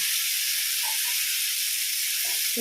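Masala-coated sardine fish frying in hot oil in a pan, giving a loud, continuous bright sizzle and hiss throughout with only faint other sounds beneath.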